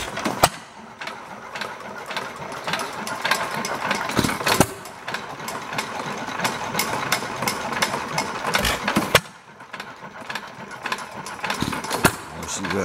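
A 1.5 hp Dempster stationary engine mounted on a new cart runs steadily with a quieter, slower rhythmic chugging and mechanical clatter, close and continuous, with a couple of brief dips in loudness.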